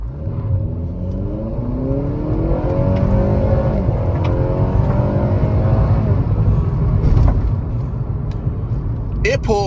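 The 2.4-litre naturally aspirated engine of a 2021 Acura ILX in sport mode rises in pitch as the car accelerates, with the tone climbing steadily before an upshift, heard from inside the cabin at moderate loudness.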